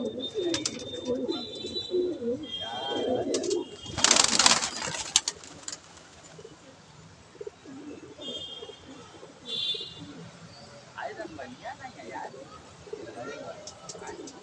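Low pigeon cooing sounds softly among chirps and people talking nearby, with a brief loud rustling burst partway through.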